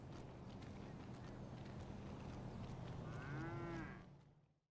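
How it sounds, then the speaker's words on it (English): A cow moos in the video game GTA Online, a single low drawn-out bellow near the end of the clip, rising over steady background game noise before the sound cuts off. "we're no longer violating the rights of this random cow that I found."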